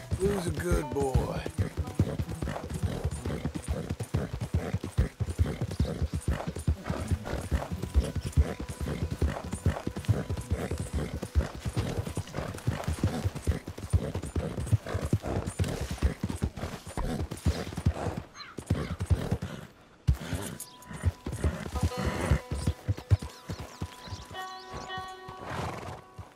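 Horse hooves clip-clop steadily and loudly in Red Dead Redemption 2, a fast continuous gait with a whinny and some talking over the hoofbeats before the rhythm thins out near the end.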